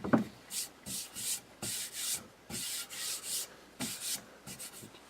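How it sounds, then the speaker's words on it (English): Rhythmic rasping strokes of sandpaper on wooden shelves, about a dozen back-and-forth passes at a steady pace, close and fairly quiet, with no talking. "Now that we're done sanding, we can take a break."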